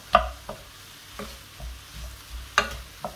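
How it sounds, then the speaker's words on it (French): Vegetables for a Provençal ratatouille stirred in a pan over high heat, with a few distinct scraping strokes and a light sizzle between them, fairly close and without any talk. "Alors on mélange encore à feu vif pendant un petit moment."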